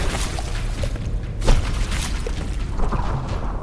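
Battleship gunfire in the naval combat game From The Depths, a few booming distant shots and impacts spread over steady rumbling battle noise.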